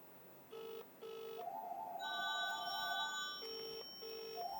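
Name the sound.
smartwatch dialing a phone call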